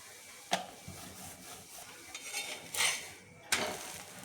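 A fasting paratha roasts on a tava with oil over medium heat, faint sizzling under a few sharp metallic clinks and scrapes of a spatula against the pan.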